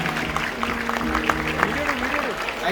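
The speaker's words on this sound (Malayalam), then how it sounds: "അജയ്ക്ക് നല്ലൊരു കൈയടി" An audience gives Ajay a short burst of applause, steady clapping mixed with voices talking over it.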